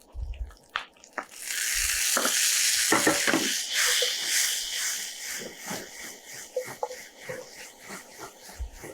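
Tomato sautéed in a pan for a chutney bursts into a loud sizzle after a few knocks, then keeps frying close by, with repeated scraping and clacking of a spoon as it is stirred.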